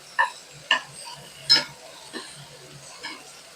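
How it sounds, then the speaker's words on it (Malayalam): Shallots and garlic sautéed in a pan, with a few sharp spatula scrapes and taps spaced apart over a faint, quiet sizzle. "ഞാൻ കുറച്ച് വെളുത്തുള്ളിയും ചേർത്ത് കൊടുക്കുന്നുണ്ട് രണ്ട് മുട നല്ല പോലെ ഒന്ന് വഴറ്റിയെടുക്കാം"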